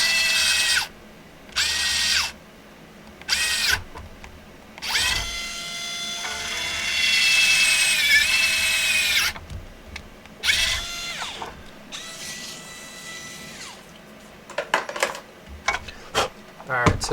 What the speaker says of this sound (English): drill a small pilot hole.